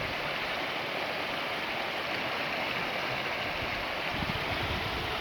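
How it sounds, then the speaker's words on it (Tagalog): River water rushes past near a farm, a steady broadband wash with no pauses, close and continuous without any talk. "Meron po siyang ilog."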